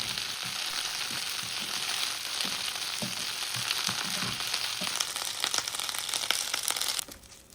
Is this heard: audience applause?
no